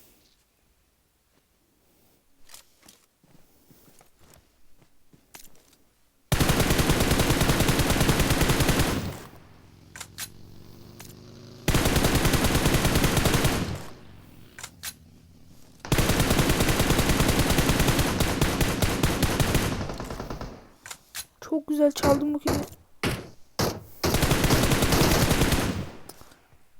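Automatic gunfire from a PUBG Mobile firefight erupts in four long, loud, dense bursts separated by short quieter gaps, with a few brief spoken words near the end.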